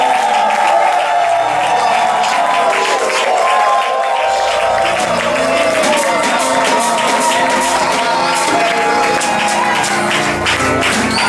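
Church congregation at a twentieth-anniversary celebration cheering and clapping loudly over sustained music, a continuous crowd roar with scattered shouts that persists throughout.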